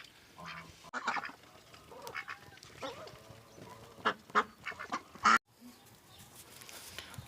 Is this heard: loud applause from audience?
no